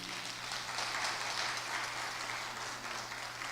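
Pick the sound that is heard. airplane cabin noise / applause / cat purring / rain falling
applause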